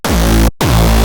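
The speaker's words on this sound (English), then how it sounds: "Then we add in some distortion." A distorted neuro bass from the Vital synth hits twice, each a loud, gritty, saturated low tone with a sweeping filter movement, the first held about half a second before a short gap and the second hit, with nothing else heard.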